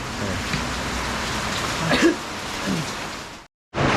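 Rain falling outdoors, a steady soft hiss of drops with a faint throat-clearing sound partway through, cut off briefly by a moment of silence near the end.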